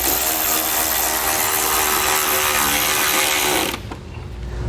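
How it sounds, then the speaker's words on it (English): A power driver drives self-tapping screws while a Roadmaster diode wiring kit is installed on a vehicle, producing a loud, steady whirring drone that drops off abruptly near the end. "we're going to need to put our self-tapping screws here, and that's going to hold it in permanently"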